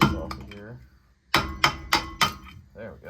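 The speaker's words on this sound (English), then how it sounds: "we're gonna have to try to take a hammer and bust this off of here" Four sharp metallic hammer blows ring out in quick succession against a badly rusted rear brake rotor on a 2004 VW Jetta, each with a short clanging decay, with someone talking before and after.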